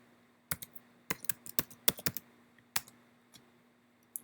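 Keys on a computer keyboard being typed as a cluster passphrase is entered, a quiet, uneven run of sharp clicks in short bursts against near silence.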